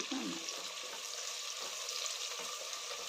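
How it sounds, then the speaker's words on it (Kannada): Chopped onions frying in a pan for chicken biryani, a dense, continuous sizzling hiss that stays even and fairly loud throughout, heard up close. "ಇವಾಗ ಈರುಳ್ಳಿನ ಇಲ್ಲಿ ಚೆನ್ನಾಗಿ ಫ್ರೈ ಮಾಡ್ಕೊಳ್ಳಿ."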